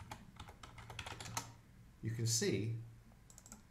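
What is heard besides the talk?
computer keyboard typing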